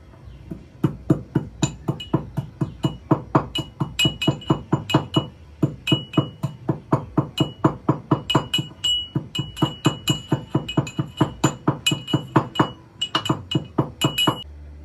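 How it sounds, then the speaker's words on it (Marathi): Cardamom pods are pounded fine for churma laddu, producing rapid, evenly spaced metallic clinks and thuds, several per second, close up and steady throughout, with no speech. "त्यासाठी मी वेलची बारीक करून घेत आहे"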